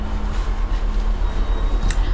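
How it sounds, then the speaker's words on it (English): A moving train heard from inside a UK public transport carriage, a loud continuous low rumble with a faint rattle and no talking. "I've just got on the next train now."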